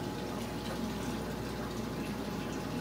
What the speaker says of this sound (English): And then you pour your brine shrimp through here to separate them from the salt water.